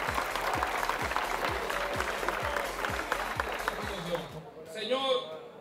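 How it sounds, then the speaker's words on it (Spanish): A crowd applauds at a baseball tournament ceremony with steady clapping over low rhythmic thumps, then the clapping stops and a voice speaks near the end. "Muy fuerte el aplauso para Junior Matrillay."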